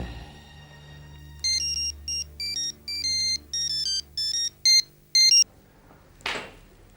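A phone ringtone plays in a TV drama, a quick run of bright electronic bursts in an irregular rhythm, loud and close, ending before a short rustle.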